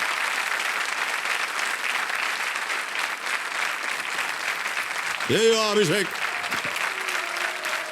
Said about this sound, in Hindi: तालियां बज जाए इनके लिए जोरदार